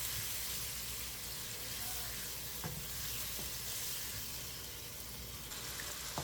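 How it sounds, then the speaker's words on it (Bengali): Spice paste with tomato and water frying steadily in a pan for egg bhuna, giving a constant close sizzle with occasional soft stirring scrapes and a faint voice in the background. "এই মশলাটাকে আমি অনেকক্ষণ ধরে কষিয়ে নেব।"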